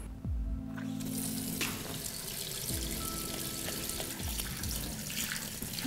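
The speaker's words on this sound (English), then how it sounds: "running your hands under the warm water tap" Warm water runs steadily from a tap over hands into a sink, a close, continuous splashing stream with low gurgles as the hands move under the flow.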